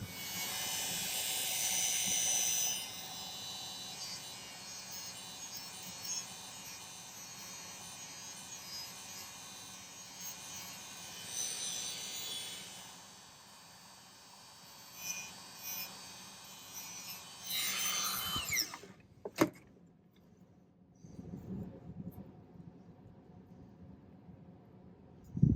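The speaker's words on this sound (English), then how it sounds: "I'm going to use an abrasive white wheel on my rotary tool." A rotary tool with an abrasive white wheel grinds silver in a steady, faint, continuous buzz that stops near the end, leaving a few handling knocks.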